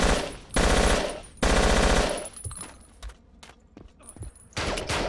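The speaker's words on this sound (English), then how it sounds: "So I'm going to whip out the old Zastava assault rifle and give it another shot." A Zastava assault rifle fires in the war shooter Battlefield Yugoslavia: two long, loud sustained automatic bursts, then scattered single shots and impacts, and a final shorter burst, with no talking.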